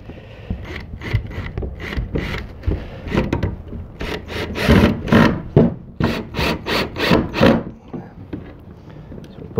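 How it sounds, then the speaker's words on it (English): Pocket hole screws driven into wood with a drill while building a side table, heard as repeated short whirring bursts with ratcheting clicks, close and loud, coming faster and denser toward the end. "We'll get our pocket hole screws, and we're going to go ahead and put these in on this side."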